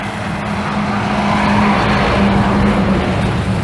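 Convoy of Viação Globo buses from Recife driving past in Goval, a loud, steady roar of engines and road noise with a low droning hum throughout.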